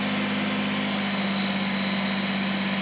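A Kubota BX2380 or John Deere 1025R compact tractor engine runs steadily near 2,000 RPM, a constant loud drone with a strong low hum and no talking.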